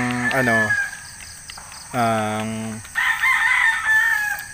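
Red sweater gamefowl roosters crow loudly in repeated calls close by, with clucking between the crows.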